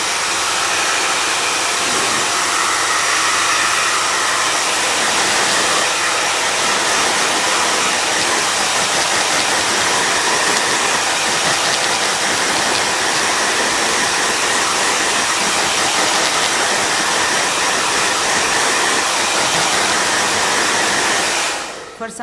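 A blow dryer heats a skin hair system so it can be taken off, blowing as a loud, steady, unbroken whoosh close by for over twenty seconds before cutting off at the end.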